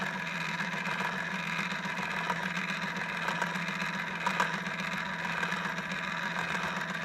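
A machine driven by four stepper motors and one larger regular motor runs with a steady mechanical whir and hum, faint ticking pulses over a constant drone, moderately close.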